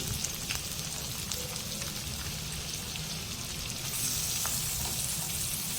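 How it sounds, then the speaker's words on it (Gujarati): Finely chopped onion, garlic and ginger frying in hot oil for veg Hakka noodles, a steady dense sizzle with faint crackles running throughout, close and even, slightly brighter toward the end. "આપણું તેલ ગરમ થઈ જાય એટલે આપણે તેમાં ડુંગળી અને લસણ જે ઝીણા સમારેલા હતા તે ઉમેરી દઈશું"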